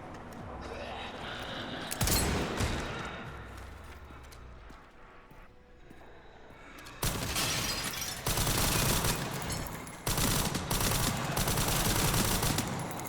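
Gunfire in the video game Resident Evil Requiem as shots go through a window: loud, sharp bursts of rapid repeated shots that come in several volleys, with tense in-game ambience between them.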